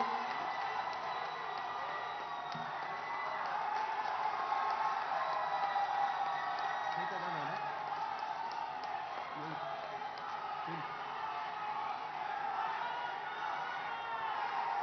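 A large crowd applauds and cheers to welcome Prime Minister Narendra Modi at a public event in Sambalpur, a steady, distant roar of clapping that continues throughout, with a voice faintly audible beneath it.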